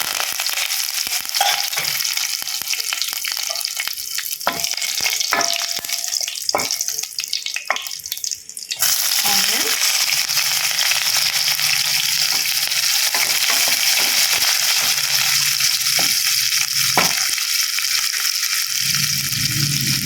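Mustard seeds, cumin, dried red chillies and curry leaves fry as a tempering in hot oil, making a loud, continuous sizzle with crackles and stirring clatter. It jumps sharply louder midway as more goes into the pan.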